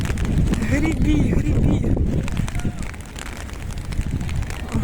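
Strong wind buffets the microphone in gusty bursts while kayaking in Dublin, with splashing paddles nearby and people calling out over it.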